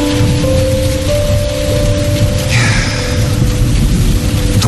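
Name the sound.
rain falling with thunder, radio drama effect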